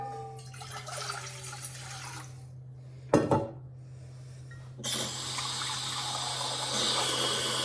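Tap water runs steadily into a measuring cup while vegetable pasta is prepared in a kitchen, with a steady mid-level flow, a brief clatter partway through and a brighter, fuller gush toward the end.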